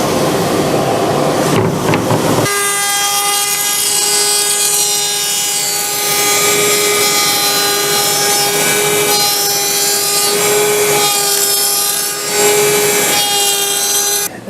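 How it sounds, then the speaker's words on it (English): A power tool eases the edges of wooden deck planks during the build of a homemade wooden boat. It runs as a loud, continuous whine with a steady high pitch, changing abruptly after about two seconds and keeping on with slight dips. "on all my deck boards, or deck planks, I'm easing the edges."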